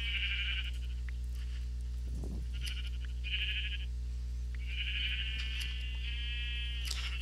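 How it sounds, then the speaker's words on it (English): Sheep bleat in a video game, a few nasal calls spaced out over a steady low background hum, moderately loud, with no voices. "We don't have much yellow sheep."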